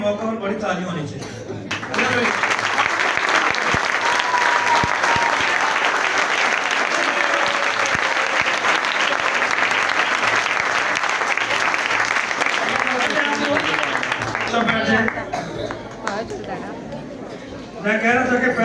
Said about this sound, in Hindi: बड़े दिन के मौका पर बड़ी ताली होनी चाहिए